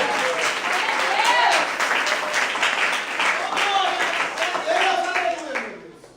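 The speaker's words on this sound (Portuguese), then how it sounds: "Mais aplausos ao Senhor, aleluia." A church congregation applauds in a sustained burst of dense, loud clapping with voices shouting over it, fading out at the end.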